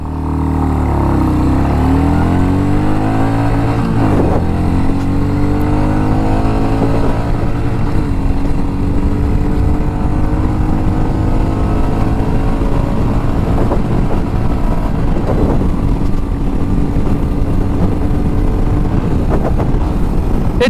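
A Royal Enfield Meteor 350 motorcycle with a 5-speed gearbox launches hard in first gear. The engine roars loud and close, its pitch climbing in repeated sweeps with brief dips between pulls. Nobody speaks.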